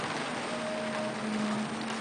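Soft, steady hiss of rain falling on a roof, with a faint tonal hum underneath; no voices.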